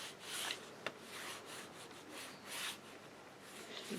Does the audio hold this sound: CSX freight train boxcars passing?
no